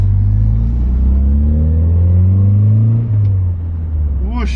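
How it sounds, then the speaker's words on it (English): A Nissan Silvia S13 with a turbo engine, converted from automatic to manual, heard from inside the car as its engine drones loud and steady, revs rise and fall, and a brief hiss of turbo release ends the clip. "You can hear a bit more of the turbo dose now too"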